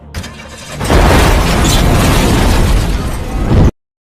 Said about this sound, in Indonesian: mobil itu tiba-tiba meledak